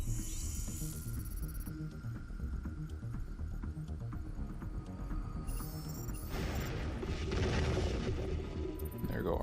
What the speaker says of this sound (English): There go our bombs.